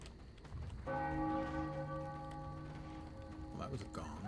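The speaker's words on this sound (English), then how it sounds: "that was a gong." Gong struck once in the video game Warhammer Online, a bright metallic ring that sustains and slowly decays over several seconds, with faint background noise and a voice entering near the end.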